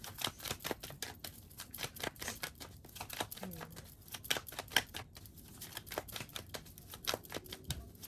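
Tarot cards being shuffled by hand, a quiet, close series of rapid papery flicks and riffles repeating in irregular bursts.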